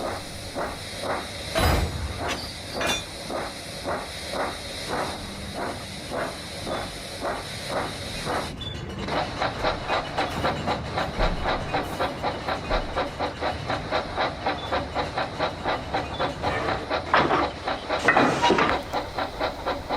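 Model steam trains running on railway track, a rhythmic chuffing and clickety-clack that picks up pace midway, with hissing steam and a loud whistle-like burst, heard close and alone.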